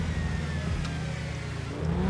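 A car engine revs steadily in a video game, a loud continuous drone that holds its pitch with a slight rise near the end, with no voices over it.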